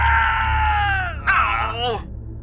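A character screams in the Nintendo video game Star Fox 64, a loud, high, wavering cry that slides downward, breaks off and rises again before trailing away over a low steady game hum.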